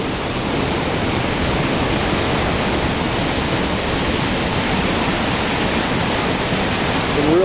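Powerful river water rushing through a rocky channel in Jasper, a loud, steady, broadband roar that stays close and continuous throughout without a break.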